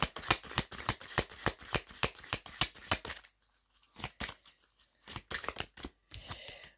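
Tarot cards shuffled in quick, crisp riffles, a steady run of sharp papery flutters that pauses briefly partway through and then resumes in shorter bursts, close and fairly quiet with no talking.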